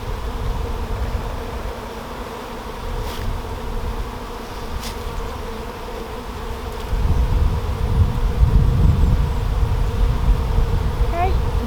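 A dense swarm of honeybees drones continuously and close up during an early-season hive inspection, the buzzing swelling louder in the second half.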